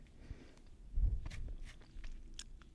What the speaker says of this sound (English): invigorating, icy mint flavor, long-lasting freshness chewing gum